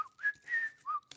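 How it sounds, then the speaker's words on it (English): A person whistles a short, clear tune of a few sustained and gliding notes, close and alone. "whistling is essential"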